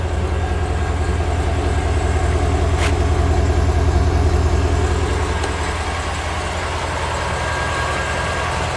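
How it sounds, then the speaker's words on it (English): A 2024 Ford F350 dually cab-and-chassis truck with the 7.3L gas V8 runs at a steady idle, giving a loud, close, even low rumble with no talking. "I want you guys to hear the engine"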